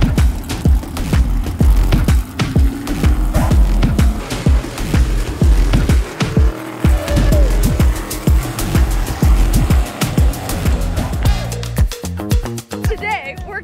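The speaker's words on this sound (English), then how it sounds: "We're taking the sprint cars out right now." Sprint cars race around a track, engines roaring past one after another in rapid, repeated passes, loud and close, with voices audible beneath the noise.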